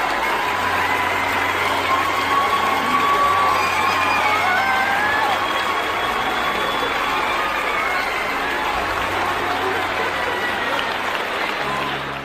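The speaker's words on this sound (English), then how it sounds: "The cheers and applause from the audience add to the excitement of this family reunion." An audience at a soldier's surprise homecoming and family reunion applauds and cheers in a steady, dense wash of clapping and crowd noise, loud and sustained without a break.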